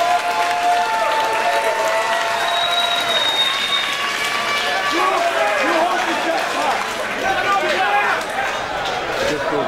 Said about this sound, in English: how about a round of applause for these two fighters?